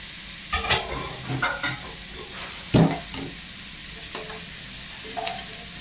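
Ingredients for a peanut curry being sautéed in a pan, with scattered stirring knocks and soft frying sizzle over a steady low hiss, a louder scrape near the middle.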